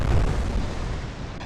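Naval artillery fire from warship guns aimed at an enemy's rear turret in the Atlantic Fleet naval combat game, a sustained heavy low rumble of booming gunfire that rolls on loudly throughout with no talking.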